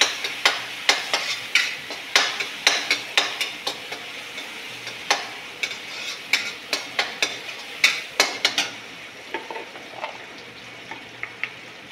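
Turmeric and coriander powder sautéing in a pan while being stirred, a steady sizzle punctuated by repeated sharp clinks of a spoon against the pan, no voices.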